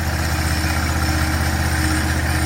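A portable sawmill's engine idles steadily and close by, a constant low rumble with an even, unbroken throb and no voices over it.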